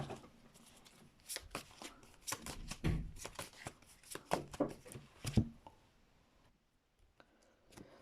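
Tarot cards shuffled by hand nearby, a quick run of crisp riffling flicks and soft taps that builds, peaks, then trails off into a few light clicks, with no talk.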